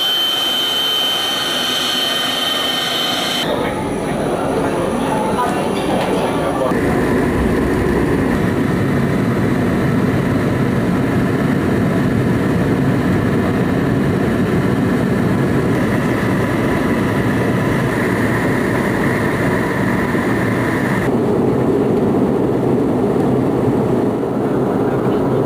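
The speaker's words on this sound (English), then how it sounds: "it was a very good flight, with new domestic airline Mapata operating a brand new DC-9" Steady, loud jet roar fills the cabin of a brand new DC-9 airliner in flight on a domestic route over Sumatra, with tonal shifts partway through but no break.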